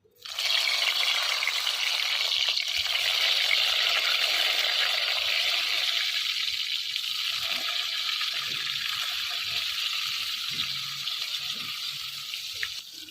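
Eggplant pieces dropped into hot oil in a wok set off a loud, close, hissing sizzle that starts abruptly and holds steady, easing slightly toward the end, with no voices.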